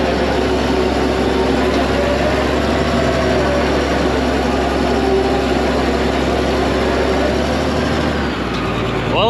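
A loader's engine runs at a steady loud idle, a deep continuous rumble with a droning tone that drops slightly near the end.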